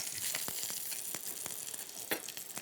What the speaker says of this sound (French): Maintenant, je vais colorer, mais brièvement, les suprêmes.